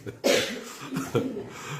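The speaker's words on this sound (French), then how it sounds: "vous comprenez qu'il y en a qui toussent ici" Coughs in a room during a live stream: a sharp close cough burst followed by a second, softer cough a moment later, with a low voice murmuring faintly between them.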